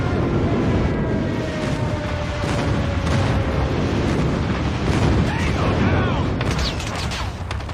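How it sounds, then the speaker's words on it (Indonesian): Airstrike explosions in a mobile shooter game on an Asus ROG Phone 5 rumble as dense, continuous booms and gunfire bursts, loud and close, with some faint voice chatter mixed in. "Friendly airstrike incoming."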